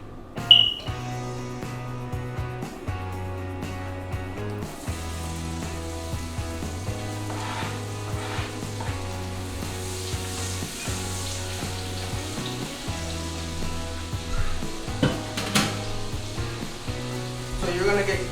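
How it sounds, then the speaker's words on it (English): Onions go into a heated pan and begin to sizzle, a moderate hiss that swells after a few seconds and continues steadily with occasional stirring noises over a soft background. "I'm going to add some onions to my pan."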